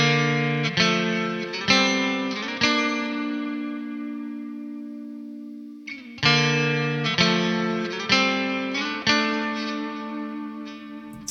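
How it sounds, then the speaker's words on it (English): Heavily distorted metal guitar chords run through an amp simulator with a large reverb, struck in clusters with long washing tails that ring out into a pause before another burst of palm-muted hits. "It has like that really nice guitar reverb quality to it."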